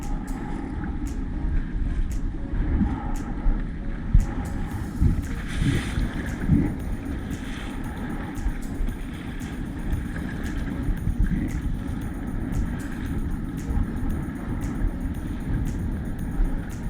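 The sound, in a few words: strong wind on the water while fishing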